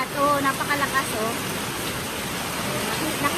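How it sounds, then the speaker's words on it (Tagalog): Heavy rain pours down in a steady, hissing wash while people shelter beside a roadside shop, with faint voices briefly audible at the start. "Inabutan kami ng ulan."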